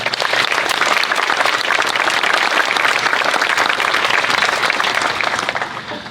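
A large audience applauds at a school education center grand opening ceremony, steady dense clapping sustained loud and close for about six seconds before easing slightly at the end.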